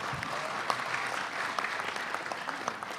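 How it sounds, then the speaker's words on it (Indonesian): An audience applauds a regent at an Indonesian public gathering, a dense, steady wash of clapping from many hands that holds evenly throughout, with a few sharper individual claps standing out. "Aplaus untuk Pak Bupati."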